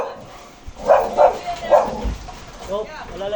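A dog gives three or four quick barks at moderate distance, spaced about half a second apart, while people talk nearby.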